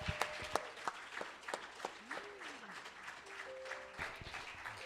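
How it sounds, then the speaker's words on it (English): A small gathering at a spiritual or church session claps for itself, with irregular, distinct hand claps over a thin crowd wash, fairly quiet and unhurried, and a few faint tonal sounds in the background. "Everybody clap for yourselves."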